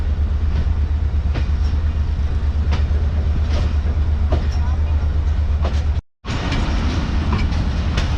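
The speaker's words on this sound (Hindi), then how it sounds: "तो एक बार फिर हमारी ट्रेन हबीबकोट जंक्शन पर अप्रोच बनाते हुए" The Mohen Jo Daro passenger train rolls toward Habibkot junction in Sindh after heavy rain, a loud steady rumble with rhythmic wheel clicks heard from on board, briefly cut by a short silent gap before resuming.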